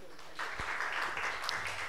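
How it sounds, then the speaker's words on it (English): A seminar audience claps together in a soft, continuous patter at moderate distance, with a faint voice underneath, not yet clearly falling into rhythm. "So maybe we can have a rhythmic applause."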